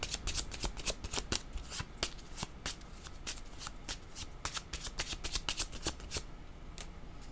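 Tarot cards being shuffled close by, a dense run of crisp riffling snaps and flicks that continues without pause, with no talking over it.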